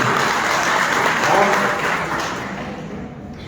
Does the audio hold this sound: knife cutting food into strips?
no